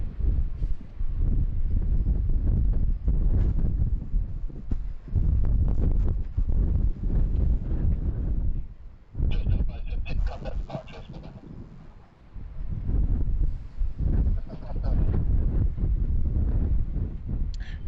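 Strong wind at Sydney Airport buffets the microphone in repeated heavy gusts, loud low rumbling surges with brief lulls, and no talk.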